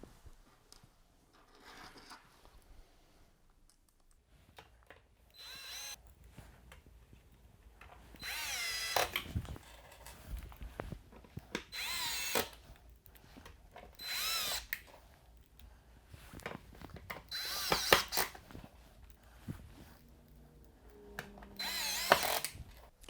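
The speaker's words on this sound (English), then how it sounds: "make sure that your drill is set on a low setting if you're using a drill" Power drill driving screws into the cross supports of a desk during assembly, several short whirring bursts separated by pauses and faint handling noises, close and moderately loud, no speech.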